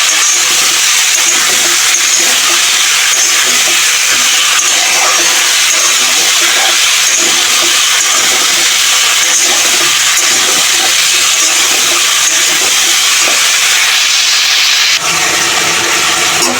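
Spice paste for a tangra fish recipe cooking in a pan with a splash of water, a loud continuous close hiss and sizzle that cuts off sharply near the end.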